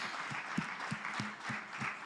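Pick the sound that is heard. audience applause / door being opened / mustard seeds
audience applause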